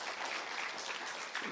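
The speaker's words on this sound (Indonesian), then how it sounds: "Berikan tepuk tangannya buat Tuhan Yesus" Church congregation applauding during a sermon, a dense, steady wash of many hands clapping at moderate distance, filling the short moment without any talk.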